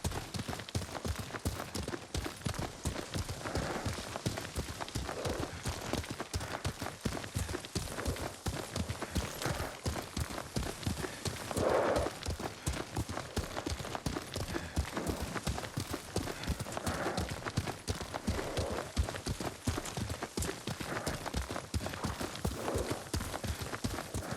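Rhythmic clip-clop of horse hooves at a steady gallop in the video game Ghost of Tsushima, quick repeated beats close by, carrying on throughout at a moderate level.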